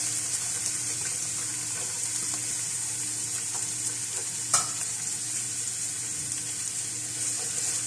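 Finely chopped small onions fry in about two tablespoons of oil in a pan, giving a steady, even hiss with faint spattering and one brief sharp clink, close and continuous, no voices.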